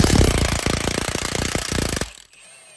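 An impact wrench hammers rapidly on the strut-to-knuckle bolts of a Fiat 500 during front shock replacement, a loud buzzing rattle lasting about two seconds before it stops abruptly.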